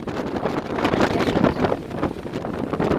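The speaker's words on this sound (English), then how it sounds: "I'm yelling because it's so windy." Strong wind buffets the microphone in loud, rumbling gusts that swell and ease without a break, with no talking.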